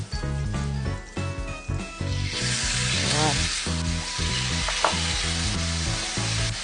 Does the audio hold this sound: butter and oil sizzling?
yes